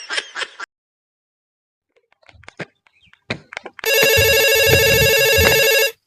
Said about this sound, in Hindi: ये क्या फोन आवत बा?